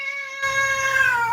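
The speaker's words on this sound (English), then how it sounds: "my cat's hollering" A cat meows loudly in a kitchen, giving one sustained, drawn-out tonal yowl that starts abruptly and carries clearly over faint room noise.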